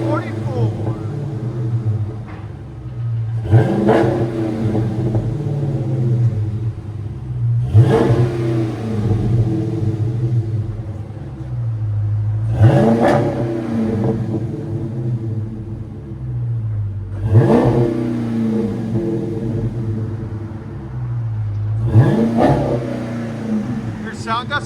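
A 2020 Dodge Challenger 1320 with the 6.4L engine and a Flowmaster Super 44 exhaust revs loud and close in five repeated throttle blips over a rumbling idle, with people talking in between.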